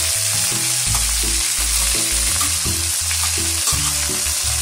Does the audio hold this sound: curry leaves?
yes